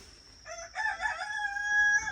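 Chickens in a coop give a single drawn-out, tonal call lasting about two seconds, close and fairly loud against a quiet background.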